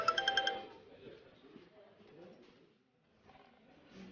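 A phone rings with an incoming call, a short burst of repeated electronic tones at the very start, followed by quiet room sound and faint movement.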